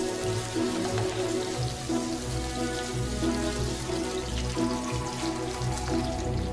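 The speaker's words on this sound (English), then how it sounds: "add the pork belly, and stir fry it until it's fragrant and the fat is rendered out" Pork belly stir-frying in a little oil in a wok, a dense continuous sizzle and crackle at close range with a rhythmic undertone of stirring, steady throughout with no voices.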